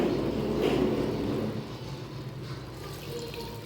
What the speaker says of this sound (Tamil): இப்போது இதில் நான் 10 கப்பு தண்ணி சேர்த்துருக்கேன்